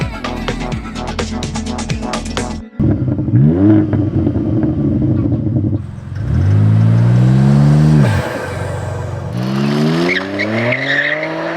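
A 600HP BMW G81 M3 Touring revs hard and climbs through gear changes on the Nürburgring, its loud raspy aftermarket exhaust rising in pitch again and again, with brief pops between shifts.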